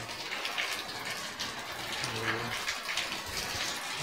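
Spring water gushes steadily from a PVC pipe into a house, a continuous close splashing wash with faint voices murmuring underneath.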